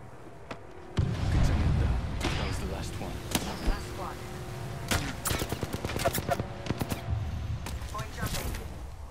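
Gunfire in Apex Legends, a low rumble giving way to irregular clusters of sharp shots and rapid bursts, some close and loud, amid ongoing game battle noise.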